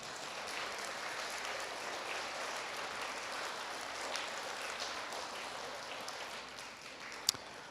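Audience applause at an elementary school student of the month ceremony, a steady wash of many hands clapping that continues evenly throughout, with no talking over it.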